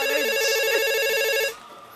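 A mobile phone rings loudly and close by in a steady electronic ringtone pattern for about one and a half seconds, then cuts off abruptly into near silence.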